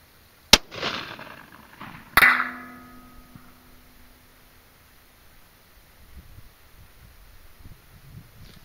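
A .243 rifle loaded with 90 g Sierra Gamechanger rounds fires on a 1000-yard range, giving two sharp, loud cracks a couple of seconds apart, each trailing off in a ringing decay before quiet outdoor background.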